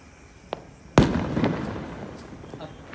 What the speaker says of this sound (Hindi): अब बचा है वो आखिरी बम ला फोड़